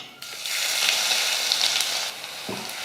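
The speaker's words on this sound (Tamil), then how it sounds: "இந்த பூண்டு சேர்த்துக்கலாம்." Garlic sizzles in hot oil for a mushroom gravy, a loud, steady frying hiss with a few scraping stir sounds near the end.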